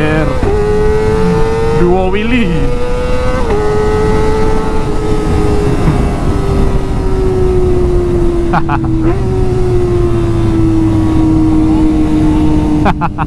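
Yamaha MT-09 and Kawasaki Z900 motorcycles held up in wheelies, engines droning loud and steady at high revs with a slow pitch sag and brief rev blips, close by under faint background voices.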